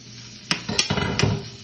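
Sweet corn being stirred in a cooking pan, with a few distinct scrapes and clinks of a utensil against the pan over a soft sizzle, close and fairly quiet.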